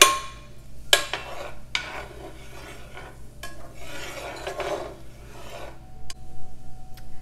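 Onions are stirred and scraped around a frying pan for a simple beef stroganoff in several separate strokes, close and fairly loud, each one a rasping rub with a light sizzle between strokes.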